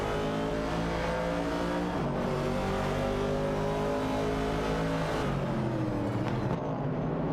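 Classic Chevrolet Camaro race cars roar continuously in an AI-driven racing video game, engines droning loud and steady with pitch shifts as they shift gears and jostle for position.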